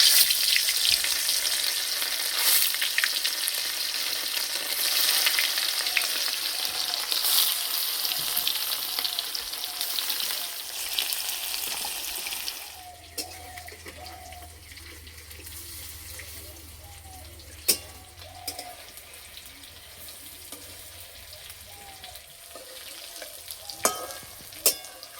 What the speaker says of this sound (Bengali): এবার ভাপানো ডিম ভেজে নেব।